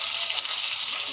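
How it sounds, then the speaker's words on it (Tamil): Tomatoes with onion, chili and curry leaves sauté in a pan for a Tamil chutney curry, making a continuous close frying hiss with light bubbling and no talk. "பாருங்கள், தக்காளி வதங்கிட்டுருக்கு."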